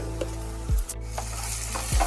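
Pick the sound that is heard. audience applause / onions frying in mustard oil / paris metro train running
onions frying in mustard oil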